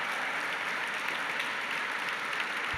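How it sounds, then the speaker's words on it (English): A large audience applauds Hubble astronauts at a 25th anniversary tribute, a dense, even wash of clapping that holds steady throughout. "please just give them a round of applause"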